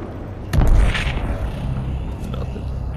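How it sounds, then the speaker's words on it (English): A grenade in the VR shooter Population One goes off as a single dull, booming thud at some distance, over steady background game noise. "Oh, there's a grenade."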